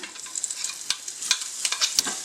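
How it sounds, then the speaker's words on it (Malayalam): Dried prawn chammanthi stirred in a hot pan, a close sizzle with quick scraping strokes and sharp spatula clicks at irregular moments. "ഇതിട്ടു ഒന്ന് ഇളക്കി അപ്പം തന്നെ ഇതിനകത്തുനിന്ന് അങ്ങ് കോരി മാറ്റുവാണ്"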